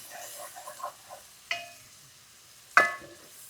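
Onions hit hot bacon grease in a pot with soft stirring and scraping, then two sharp, brief sizzle bursts a second apart, close and fairly loud against an otherwise quiet kitchen.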